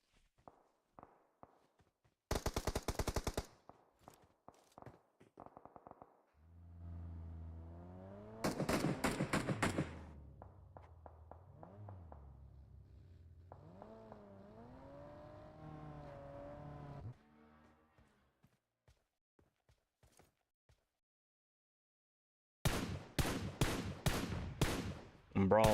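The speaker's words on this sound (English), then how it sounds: "Brawl taking out the tires of the buggy up there on the hill." In a battle royale video game, bursts of rapid gunfire shoot out a buggy's tires on a hill, separated by stretches of whining vehicle engine and quiet gaps, with a final loud volley at the end.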